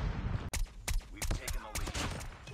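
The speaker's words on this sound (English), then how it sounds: "Oh, dude, I didn't even mean to shoot him." Rapid gunfire in Call of Duty Mobile, about six sharp, loud shots in an uneven burst over a low background rumble.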